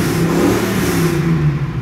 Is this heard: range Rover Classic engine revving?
yes